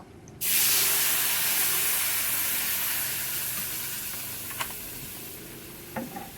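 Water is poured over spices in a hot pan, and a sudden loud hiss bursts out. The sizzle then fades slowly over several seconds, with a couple of faint clinks near the end.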